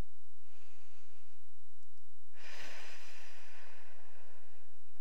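Yoga breathing during a pole yoga flow: a quiet inhale followed by a longer, louder audible exhale, close and alone.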